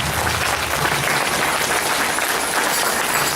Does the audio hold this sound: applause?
yes